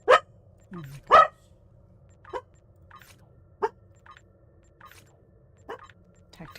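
A dog gives a few sharp barks and yips spaced out over several seconds, fairly close but not loud, with a soft whimpering note and a quiet hum underneath.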